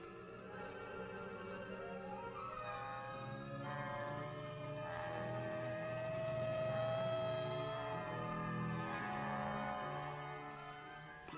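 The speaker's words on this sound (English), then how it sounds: "Police car." Police car siren approaching on a main road beside plowed fields, a wavering wail that grows louder over a steady, dense background of engine and ambient noise, with no talking.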